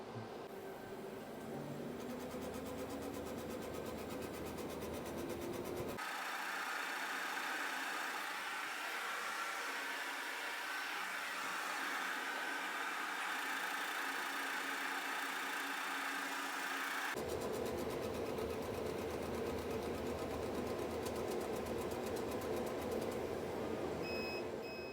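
A CO2 laser engraves on a Hydra Series machine with compressor air assist at 5 psi, giving a steady broadband hiss and hum. A louder continuous rushing band runs through the middle of the recording, with no talk.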